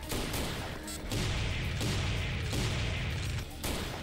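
Sniper rifle fire in the video game Serious Sam 3: BFE, a dense, continuous roar of blasts and explosions that swells and dips for a few seconds, with no talking.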